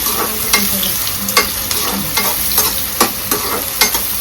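Chicken, cucumber and tomato sizzle in a pan, a close steady fry broken by regular scrapes and clacks of a spoon stirring, no voices.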